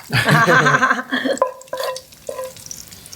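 Leftover boiled chicken is stir-roasted with salt in a pan. Near, loud scraping stir strokes come first, then several short separate scrapes and knocks follow with brief gaps between them.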